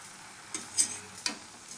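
Winter greens and radish are stirred in a cooking pot, with a few soft scraping strokes and light sizzling, quiet and close, with no talking.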